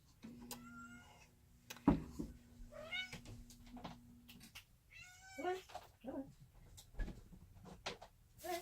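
A fussy house cat meows repeatedly at close range, a series of drawn-out, wavering cries spread through a quiet kitchen, with a few light knocks and a steady low hum underneath.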